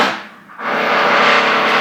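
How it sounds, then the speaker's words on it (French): A power drill starts up after a brief lull and runs as a loud, steady, buzzing whine that continues without a break. "Ça faisait longtemps qu'on n'a pas eu de perceuse."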